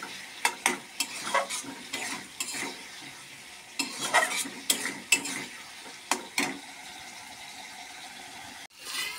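Potatoes stirred in a frying pan with a spatula, irregular scraping strokes over a faint steady sizzle, close and fairly quiet, ending with a sharp clatter.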